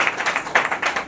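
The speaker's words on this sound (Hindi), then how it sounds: "और विमल आंटी के लिए ताली बजाएंगे" A short burst of audience clapping in an indoor gathering, quick overlapping hand claps at close range, moderately loud and alone.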